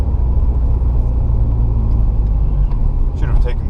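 A car drives through the streets of Tallinn, Estonia, its steady low engine rumble and road noise filling the cabin continuously, with someone talking over it.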